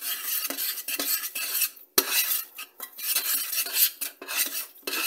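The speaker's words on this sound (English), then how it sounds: "Mix it until the butter's all dissolved." Butter being stirred in a pot until it melts, repeated metallic scrapes and clinks of a utensil against the pot in an uneven rhythm with brief pauses, close and clear, nobody speaking.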